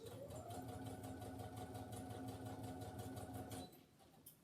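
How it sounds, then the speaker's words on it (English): A sewing machine stitches the seam of a fabric Christmas wreath in a steady, continuous whirring run that stops abruptly near the end, leaving quieter room sound. "So I'm just going to machine that now."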